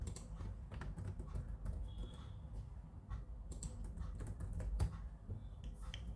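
Fingers type steadily on a computer keyboard while filling in an online form, giving rapid, irregular key clicks close by and fairly quiet, with no talking.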